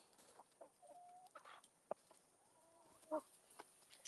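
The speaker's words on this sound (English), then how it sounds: "I have, I think, 15 laying hens" A small backyard flock of laying hens clucks softly, scattered short calls and murmurs at a moderate distance, with quiet gaps between them.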